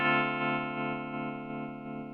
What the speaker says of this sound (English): this is just go back to the bridge pickup, and this is, you can see the pulse of the tremolo there.